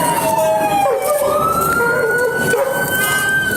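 Police car siren wailing during a pursuit, a loud, close, continuous rising and falling tone with road and engine noise beneath it.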